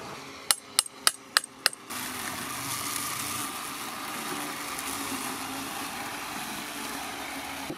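A bumper is snapped onto a Parkside PMRDA 20-Li robot lawn mower with five sharp, evenly spaced taps close by, followed by a steady low hum of the running machine.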